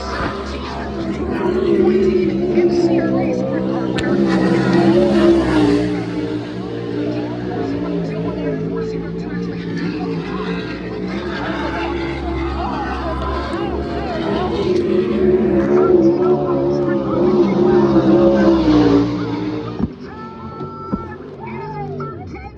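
A race car, number 87, laps a race track, its engine droning steadily with shifting pitch, while an announcer talks over it almost the whole time.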